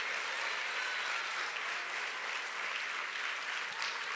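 A church congregation clapping together, an even wash of applause held throughout, somewhat distant and soft.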